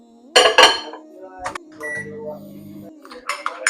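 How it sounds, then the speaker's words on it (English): A microwave oven hums for a short stretch while melting desi ghee for barfi, a low steady drone between louder clatters of dishes and cutlery, with someone speaking nearby. "I'm going to melt this in the microwave for about 30 seconds"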